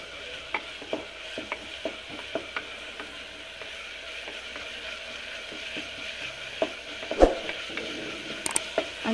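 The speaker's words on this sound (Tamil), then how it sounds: "இப்போ இதில் வெங்காயம் இஞ்சி பூண்டு பேஸ்ட்டு பச்சை மிளகாய் கொஞ்சம் நல்லா வதக்கி விடுங்க" Onion, ginger-garlic paste and green chillies sauté for a varagu millet vegetable biryani: a soft low frying hiss under intermittent clicks and scrapes of a stirring spoon against the pan, close, with a louder clatter near the end.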